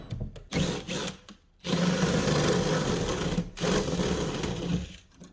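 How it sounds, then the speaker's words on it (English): A spade drill bit grinds through a 2x4 wood stud in short bursts, pauses briefly, then bores in one long, steady run. "Use spade drill bit for 2x4 is the fastest way to run Romex."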